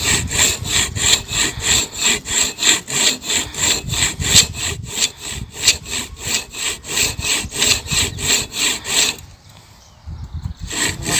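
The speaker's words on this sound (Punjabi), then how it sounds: "ਲੋ ਜੀ ਆਹ ਵੱਢ ਲਈ ਆਪਾਂ ਨੇ ਖੜ" Reeds being hand-sawn in a Punjabi village near a canal, a steady rhythmic back-and-forth rasp of the blade close by, stroke after stroke, pausing briefly near the end before resuming.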